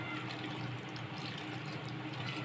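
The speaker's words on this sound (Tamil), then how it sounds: "இந்த காய் வேகிற அளவுக்கு நம்ம தண்ணி சேர்த்துக்கலாம்." A steady stream of water pours and splashes into a cooking pot of sambar with eggplant, drumstick and mango, a continuous gushing sound with no voices.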